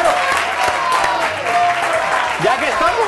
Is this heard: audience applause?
yes